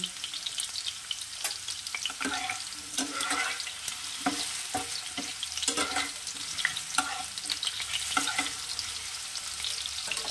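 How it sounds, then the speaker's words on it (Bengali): Food for an egg dish fries lightly in oil in a pan until browned, with a steady crackling sizzle and occasional stirring scrapes. It sounds close and continuous, with no talking. "এটাকে লাল করে ভেজে নেব হালকা"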